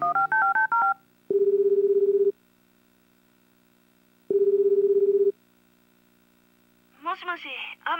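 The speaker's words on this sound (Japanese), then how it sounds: "天地くんに電話しよう" Telephone keypad tones in the video game Tokimeki Memorial Girl's Side 2nd Kiss: a quick run of touch-tone beeps followed by two long ringback tones separated by silence, clean and loud, before a voice begins speaking.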